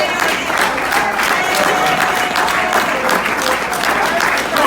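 A church congregation applauds loudly and steadily throughout, with dense sustained clapping and a bit of crowd noise.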